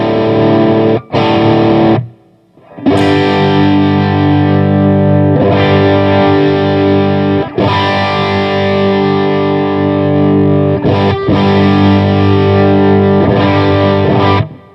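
Electric guitar runs through a parallel blend of a bright, heavily distorted sound and a warmer one, ringing loud sustained chords with brief cut-offs and restrikes, thick and saturated with a slight chorus-like shimmer.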